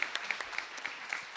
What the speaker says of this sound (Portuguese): uma salva de palmas a Daniela